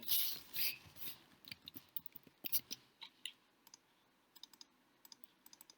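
Keys clicking on a computer keyboard while a Scratch map game is being built, starting as a dense burst of taps and then thinning into sparse, irregular clicks close to the mic.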